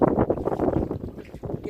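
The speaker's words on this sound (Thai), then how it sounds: "อากาศดีแต่ว่ามีลม" Wind on a spring boat trip around a Norwegian island: a steady, loud, low rumbling buffet against the microphone, gusting unevenly throughout, with no talking.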